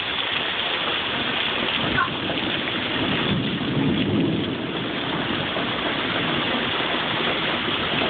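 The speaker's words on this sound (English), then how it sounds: "It's raining very hard." Heavy, steady rain pours during a hurricane with hurricane-force winds, a dense continuous roar that holds at constant loudness throughout, with a faint low rumble of thunder swelling midway.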